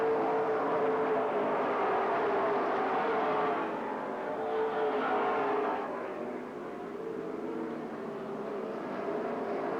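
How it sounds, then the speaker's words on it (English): Mid American Sportsman race cars roar continuously around Lake Geneva Raceway in Wisconsin during the 1998 Fall Classic, a loud, dense engine drone that swells and eases slightly as the pack passes, with no voices over it. "97 of Mark Brewer, the 88 of Rick Horschel, still racing side by side for the lead at the stripe"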